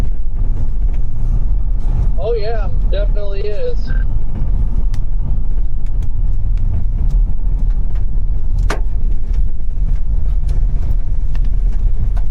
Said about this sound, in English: Listen to the hail hit everywhere.